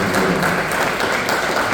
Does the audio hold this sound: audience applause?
yes